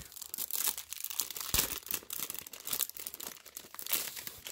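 Plastic wrapping crinkles and crackles close by as a wide diamond painting box is unwrapped, in irregular bursts of rustling and tearing with no voices.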